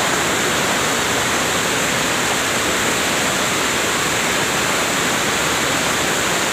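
The Ceracai waterfall in South Aceh pours with a loud, unbroken rushing roar of falling water, steady and close, with no other sounds above it.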